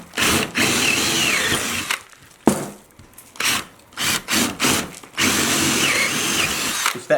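A power drill bores holes in wood for a carpenter bee trap, whirring in several loud bursts of varying length with brief pauses between them, close up and with no talk.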